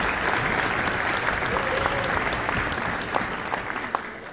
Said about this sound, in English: so let's give them a thank you and a nice round of applause